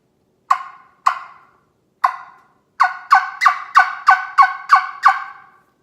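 A wooden game call made of cocos wood, a rook-style caller, sounds a series of short harsh squawking notes: three spaced calls, then a rapid run of about eight, close and clear with no talking.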